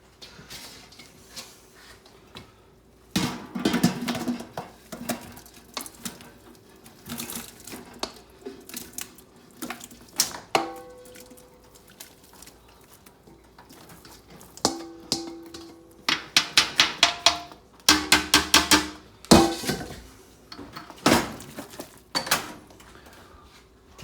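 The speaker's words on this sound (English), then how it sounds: "Now we're going to put these potatoes back in the big pot." Potatoes for a potato leek soup are dropped back into a big pot, making a string of clunks and clattering knocks, some in quick bursts, amid faint kitchen background noise.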